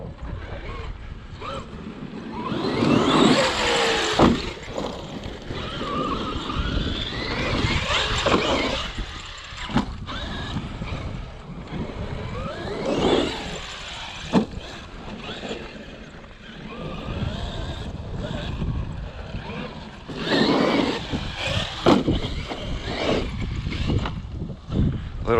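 Traxxas Wide X-Maxx RC truck racing around a BMX track, its motor whining and gears grinding in loud surging passes near and far, mixed with wind noise.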